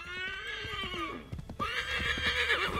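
Horse in the Assassin's Creed 3 video game whinnying loudly in a long, wavering neigh, then a short break of hoof thumps before galloping hooves and more whinnying continue close up.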